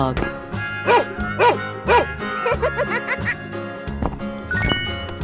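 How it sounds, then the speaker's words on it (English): A dog in a 3D animal sliding game gives a few short, evenly spaced barks over cheerful game music with chiming effects. "Dog."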